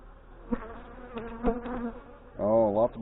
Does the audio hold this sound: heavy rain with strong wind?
no